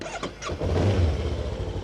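A KOVE 525X adventure motorcycle engine cranks and catches, a quick starter whir turning into a low, steady rumble at close range.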